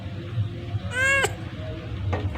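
A cat gives a single clear, rising meow up close, followed by a shorter faint second call, over a low background hum.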